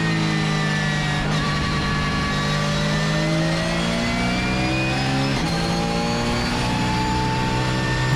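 Porsche race car at full throttle on the Zandvoort circuit, its engine loud and close with rising harmonic sweeps through gear changes and a sharp shift near the middle, continuous with no talk.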